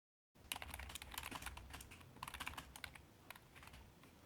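Close, fairly quiet typing on a computer keyboard, a quick irregular patter of key clicks that starts after a brief silence and continues for about four seconds, with no talking.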